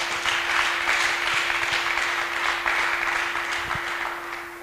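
Steady applause from a church congregation, a dense clapping wash that holds throughout and fades slightly at the end.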